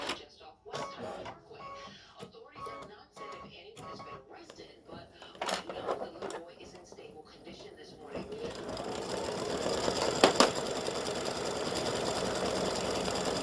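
A home embroidery machine stitches a filled Mardi Gras gnome design with a rapid, steady needle chatter and motor hum that grows louder and denser partway through, while a person talks quietly over the start.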